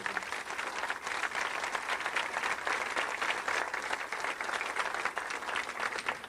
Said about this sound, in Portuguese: Transfiro todas essas palmas para o meu Jesus.